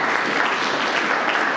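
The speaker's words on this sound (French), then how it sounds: "je demande de l'applaudir pour ça" Audience applause for Madame Gloria at a film presentation at the Institut Français, a steady, dense wash of clapping from a full room with no pauses across the short stretch.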